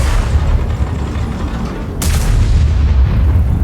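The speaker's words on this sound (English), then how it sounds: "those are big guns from an M103 and a T30" Big guns of an M103 and a T30 in World of Tanks, one loud, sharp cannon blast that rolls into a long, dense rumble over a steady battle din; no talking.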